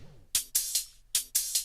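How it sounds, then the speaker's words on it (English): Crisp dubstep hi-hat hits tick in a quick, uneven pattern, some short and some ringing open, alone and clean. "Then you can add some more hi-hats on each side of this open hi-hat thing."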